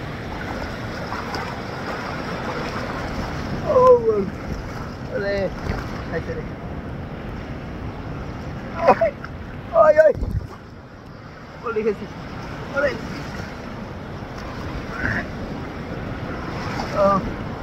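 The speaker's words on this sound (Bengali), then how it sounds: "আসলে ঘূর্ণিঝড়ের পরে কুয়াকাটার ঢেউগুলো অনেক বাড়ছে প্রচন্ড।" Strong sea waves break at Kuakata beach after a cyclone, a constant heavy surf roar buffeted by wind noise, with people talking and shouting over it.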